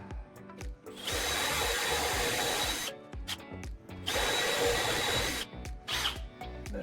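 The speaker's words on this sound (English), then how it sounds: "now we're gonna get our drill. Set up to drill the door" Power drill boring holes into a basement door for a door handle, two long steady bursts of whining drilling with brief handling clatter between, loud and close with no talk.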